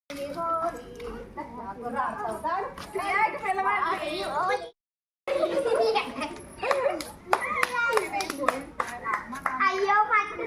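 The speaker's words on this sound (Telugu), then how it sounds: "చప్పట్లు కొడుతుంది." A child claps hands at a Holi celebration in residential quarters. A few sharp claps come through late in the clip, mixed under steady children's chatter and laughter.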